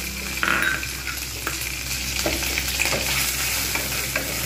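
Grated coconut fries with kochu loti in a hot pan, giving a dense continuous sizzle up close, with repeated scraping and clinking strokes of a spatula against the pan.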